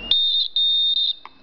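A homemade rain alarm buzzer gives loud, shrill electronic beeps when a water drop bridges the gap between two nails: a long continuous tone broken by a brief pause, then a short final chirp.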